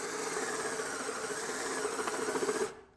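A Black Tools TB12A cordless drill/driver runs with a steady, buzzing motor whir for a few seconds, then cuts off abruptly into near silence.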